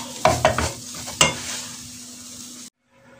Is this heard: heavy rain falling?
no